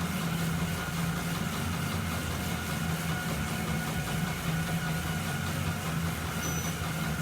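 Bicycle on a turbo trainer spinning at about 100 RPM cadence, giving a loud, steady whirring drone with a constant low hum that runs unbroken throughout, with no talking.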